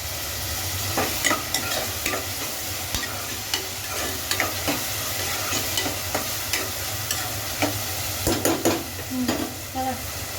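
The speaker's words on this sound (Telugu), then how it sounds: "ఆనియన్స్ చూసారా మంచిగా బ్రౌన్గా ఫ్రై అయిపోయాయి కదా" Onions frying in oil in a pot for a mutton curry, with continuous dense sizzling and intermittent stirring scrapes and clicks throughout, steady and close, with no talking.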